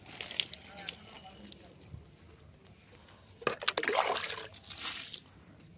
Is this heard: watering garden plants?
yes